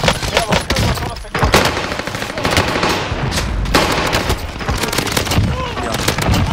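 Rapid automatic gunfire in the battle royale video game Warzone, loud bursts of machine-gun fire and sharp shots in quick succession with brief gaps, under excited in-game chatter.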